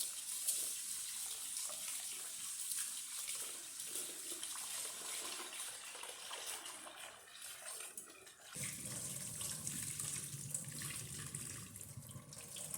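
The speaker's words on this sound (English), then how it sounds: "Then wash my rice" Water runs steadily from a tap while rice is washed in a pot for a Jamaican ackee and saltfish meal with white rice, a continuous splashing rush that shifts in tone partway through, with no voices.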